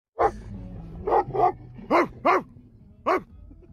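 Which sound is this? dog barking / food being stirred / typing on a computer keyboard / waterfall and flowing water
dog barking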